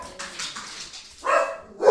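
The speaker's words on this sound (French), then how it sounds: "Mes chiens ont jappé, fait qu'on n'entendait absolument rien de ce que je disais." Several household dogs bark in a home during a kitchen renovation, with two sharp bursts toward the end following a quieter, muffled stretch, close and fairly loud with no talking.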